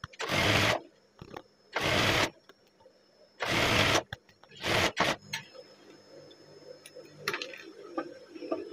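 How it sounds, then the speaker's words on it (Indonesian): An overlock serger finishing the side edges of a PDH uniform shirt, running in four loud, close bursts of rapid whirring stitching separated by pauses, then quieter handling sounds of fabric and the machine. "Oke, saya obras dulu teman-teman."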